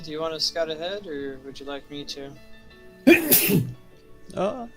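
A single sharp sneeze bursts out in the middle of a tabletop role-playing game session, loud and close, with people talking before and after it.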